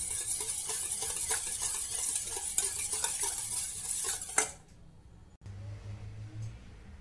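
Eggs beaten in a bowl for a cake batter made in a kerahi, a steady clattering whisk against the bowl for about four seconds, then stopping into quiet room tone with a low hum.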